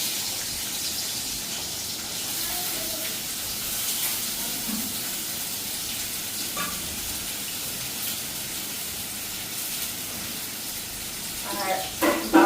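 Plain white rice fries in a pan without turmeric, giving a steady, even hiss and sizzle that carries on throughout, with a few louder spatters and clatters near the end.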